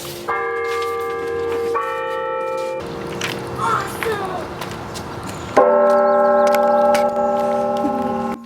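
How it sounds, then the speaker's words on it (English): A mission church bell rings in repeated, sustained strikes with long ringing decay, loud and close, with brief noisy activity mid-way and a short excited voice. "the church bell started ringing"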